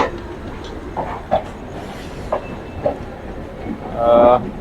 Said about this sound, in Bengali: দর্শক বন্ধুরা এখন আমাদের পাশাপাশি আর একটা লোকাল ট্রেন যাচ্ছে